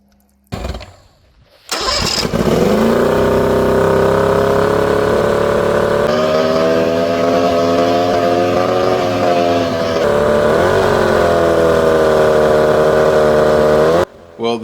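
An old Mariner 40hp outboard motor, once abandoned, cranks over and then runs loud and steady for about twelve seconds with a slight rise and fall in pitch, cutting off abruptly near the end.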